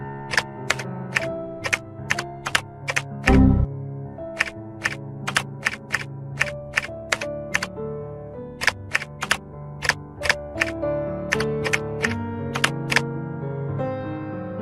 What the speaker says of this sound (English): he keeps typing O's and 1s